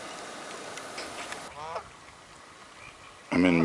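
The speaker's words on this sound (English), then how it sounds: "the geese have their babies, and they're yellow, yellow, brand new. That's Branta canadensis, Canada geese." Canada geese with newly hatched yellow goslings, outdoors, giving a few scattered honks, one brief call midway and a louder honking burst at the end.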